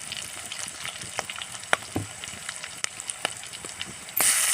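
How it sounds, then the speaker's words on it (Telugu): Green chillies and curry leaves frying in hot oil, a steady close sizzle dotted with sharp pops and crackles, ending in a louder burst of hiss. "ఇట్లా పచ్చిమిర్చి కరివేపాకుని ఒకసారి వేగనియాలి"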